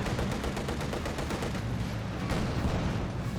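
Dense, continuous gunfire against Grenadier infantry in Company of Heroes 2, a packed wall of rapid shots and rumbling impacts with no gaps, heavy and steady throughout.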